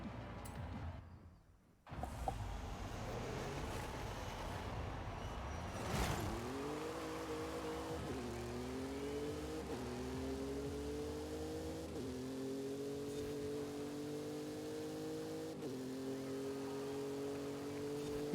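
Big modified truck with a rear-wheel-drive swap and six-speed gearbox in Forza Horizon 5, engine droning and revving up through several gear changes, each shift dropping the pitch before it climbs again, loud and continuous after a brief quieter start.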